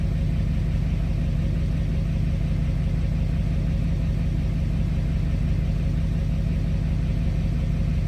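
An engine idles fully warmed up, giving a loud, close, steady low rumble with an even pulsing beat that stays constant throughout, with no voices.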